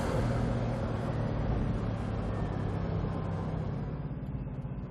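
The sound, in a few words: Bugatti Veyron Grand Sport Vitesse accelerating, throttle touched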